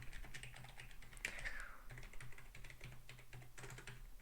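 Commands are typed on a computer keyboard in quick, soft, close keystrokes over a low steady hum.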